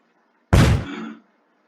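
A single booming cannon blast in the video game Happy Wheels erupts suddenly and fades within about a second, loud and close against near silence.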